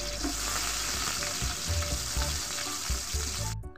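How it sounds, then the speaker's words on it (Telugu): Sliced onion and green chillies fry in hot oil in a pan over a wood-fired stove, giving a loud, close, steady sizzle with occasional stirring scrapes throughout and no talking. "ఆనియన్, పచ్చిమిర్చి వేసుకొని వీటిని ఫ్రై చేసుకోవాలి."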